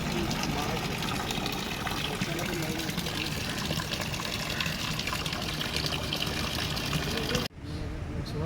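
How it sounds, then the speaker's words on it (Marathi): A decorative waterfall at a Konkan home runs with a steady, splashing gush of falling water while people talk nearby; the sound cuts off abruptly near the end. "लक्ष्मी वॉटरफॉल चालू करतो"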